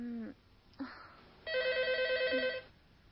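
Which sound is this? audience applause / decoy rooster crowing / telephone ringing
telephone ringing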